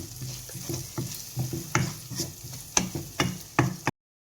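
White sauce for pasta, seasoned with salt and red chilli, cooks in a pan with soft bubbling and a spoon stirring in irregular scrapes and taps, close and moderately loud, with no talking.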